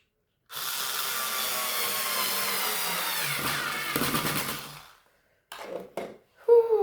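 Power screwdriver or drill driving screws while a TV cabinet is assembled, a steady whirring run of about four and a half seconds, then a pause and a few short rattling bursts of handling noise.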